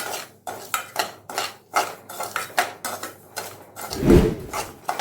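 Semolina being dry-roasted in a kadai over a medium flame for rava kichadi, with repeated scraping and stirring strokes of a spoon against the pan, a steady close rhythm of clinks and rasps and one louder knock near the end.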